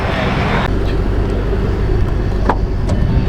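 Loud, steady low rumble of a straight-piped 2014 Ford Mustang 5.0 V8 engine and exhaust heard from close by inside the car, constant throughout with faint road noise.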